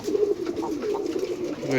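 Deshi Rajgolla pigeons in Dhamrai, Dhaka, coo in soft, low, rolling murmurs that run continuously and close by.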